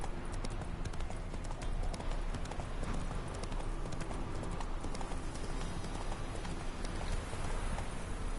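Horse hooves clip-clopping in The Witcher 3 game, a steady rapid trot continuing evenly and fairly loud throughout with no voices.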